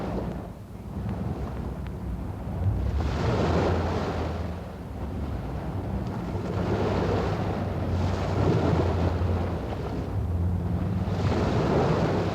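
A boat heaves through rough ocean waves on an expedition to the Juan Fernández Islands, with a steady roar of wind and water swelling and surging in broad repeated waves, no voices.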